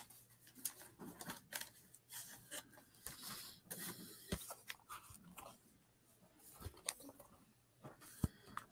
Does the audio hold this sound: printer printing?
yes